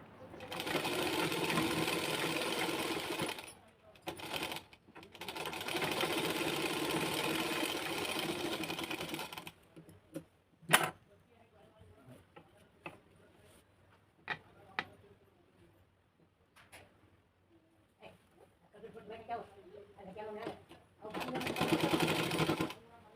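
A sewing machine stitches a folded blouse hem, running in long steady bursts of rapid mechanical chatter separated by pauses filled with small clicks and handling noises, close and clear, with a final burst at the end.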